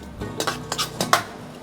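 Seeds of watermelon rattle and scrape in an iron pan as they roast, several distinct metallic clinks and scrapes spaced across a brief quiet stretch, close by.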